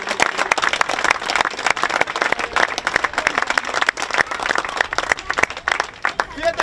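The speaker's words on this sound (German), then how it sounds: "Ich möchte einmal einen großen Applaus bitten für die Feuerwehr" A crowd applauds the fire brigade at a maypole raising in Mautern an der Donau, with dense, steady clapping that fills the whole stretch and some voices mixed in.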